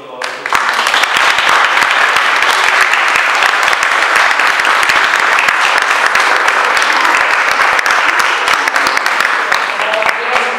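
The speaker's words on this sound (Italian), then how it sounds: "fare un grande applauso a Mari e a tutto il nostro" Loud, sustained audience applause at a theatre event, a dense continuous roar of many hands clapping close up for about ten seconds, with no talking over it.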